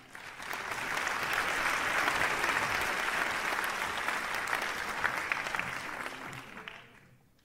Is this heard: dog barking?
no